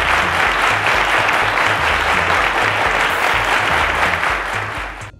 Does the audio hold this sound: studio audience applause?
yes